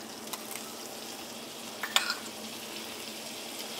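Plain flour sprinkled into melted butter sizzling in a pan for a cheese sauce, a steady soft frying hiss with a couple of faint clicks and a brief louder crackle.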